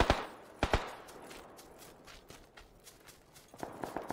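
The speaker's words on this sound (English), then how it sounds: "Guy's still up there, shooting away." Enemy gunfire in a video game: a pair of sharp loud shots near the start, then fainter scattered pops and a quick burst of several shots at the end, with no talk over it.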